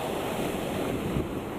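Steady roar of ocean surf and wind on a storm-battered Caribbean street during Hurricane Matthew, a continuous loud wash of noise with no voices.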